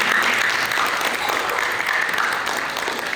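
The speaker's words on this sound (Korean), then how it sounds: "박수 부탁드리겠습니다." An audience at a student reporters' certificate ceremony in Yongin claps steadily, a full, even wash of applause filling the hall and tapering slightly at the end.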